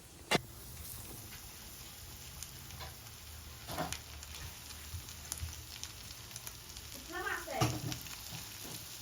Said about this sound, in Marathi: तर गाईज पॉपलेट तळायला घेतलेली